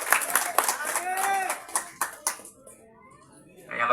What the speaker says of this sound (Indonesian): Boleh tepuk tangan juga.